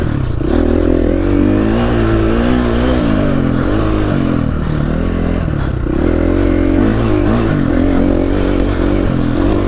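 A Husqvarna FE350 four-stroke dirt bike engine revs loudly and close up, its pitch rising and falling in repeated throttle blips over a steady running drone, with no voices.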